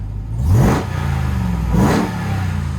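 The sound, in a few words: pickup truck exhaust revving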